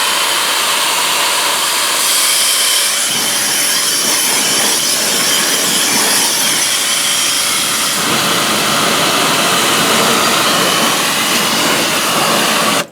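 High-pressure washer gun blasting water into a car's wheel well, a loud, continuous hissing roar that holds steady for the whole stretch with no talking over it.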